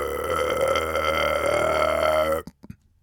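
A voice acts out a caterpillar's long, loud burp in a children's story. The drawn-out rumble is held for over two seconds, then cuts off sharply and leaves a few faint trailing sounds.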